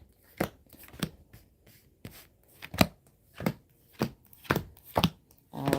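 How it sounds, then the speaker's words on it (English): A tarot deck is cut and handled with a series of crisp, close slaps and taps at irregular intervals, with no talking. "Cutting the deck."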